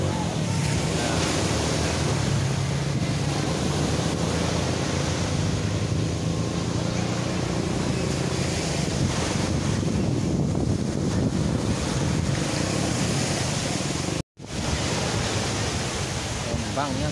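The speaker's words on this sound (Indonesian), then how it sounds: "Gelombangnya kencang banget." Strong ocean surf at Teluk Gosong beach roars continuously, a dense wash of breaking waves mixed with heavy wind buffeting the microphone, with a brief dropout near the end.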